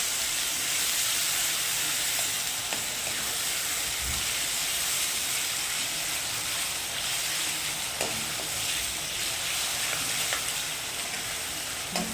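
Onion, tomato and curry leaves sizzle and crackle steadily in a hot pan as they are sautéed for dal tadka, with occasional stirring scrapes over the constant frying hiss.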